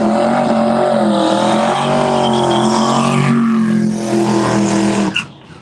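A twin-turbocharged, short-wheelbase drag race car called the Hellbilly roars steadily and loudly up close, its engine note shifting slightly before cutting off sharply near the end.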